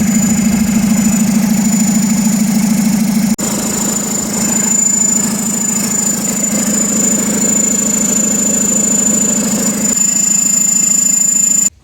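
A 2012 VW Jetta TDI diesel engine idles steadily after a new alternator install, a close, constant low drone with a faint high whine running throughout and no talk.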